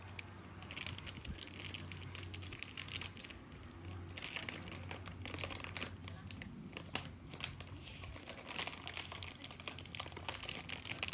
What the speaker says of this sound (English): Now what we got is a veggie straws bag. This is what we have to burst now.